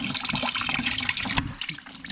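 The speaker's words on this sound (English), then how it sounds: "Get the rest of this water out of here." Water pours and splashes out of a car engine block through an open freeze plug hole, a steady close gurgling gush with one sharp knock partway through, no talking.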